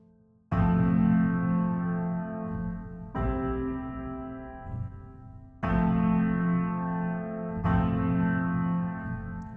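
Piano chords struck four times with a gritty, crunchy saturation-distorted tone, each ringing out before the next, close and fairly loud.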